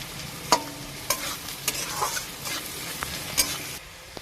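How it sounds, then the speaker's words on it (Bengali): Diced potatoes for chira pulao sizzle and fry in a hot pan while being stirred, a continuous close crackle broken by several sharp scrapes of the spatula against the pan. "এবার একটু ভেজে নেবো সামান্য একটু যাতে আমার আলুটা একটু সিদ্ধ হয়ে যায়"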